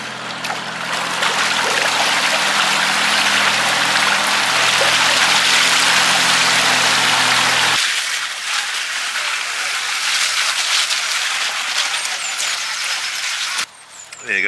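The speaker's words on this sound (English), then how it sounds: "just on the little tractor squidging the slurry out the pipe" A John Deere tractor on a farm pumps liquid slurry out through a pipe, giving a loud, steady rushing gush with a low droning hum underneath for about eight seconds, then a quieter continuing hiss and splash.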